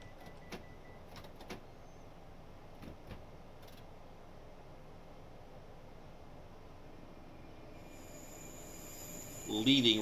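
Doors of a Class 465 electric train close at Rochester before departure, heard faintly inside a quiet cab with a few soft clunks, then a louder warning beep pattern near the end.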